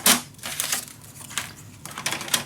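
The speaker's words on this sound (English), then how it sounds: "Going to hold it down and cut it." Cardstock is cut to a one-inch strip for a scrapbook mini album hinge, giving a few sharp crisp cutting strokes and rustles close up, in short bursts with brief pauses and no talk.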